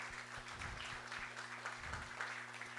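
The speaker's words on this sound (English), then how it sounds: "give everybody a big round of applause for all of you guys" Audience applause at a youth competition event, a faint, continuous patter of clapping from a crowd heard at a distance over a low steady hum.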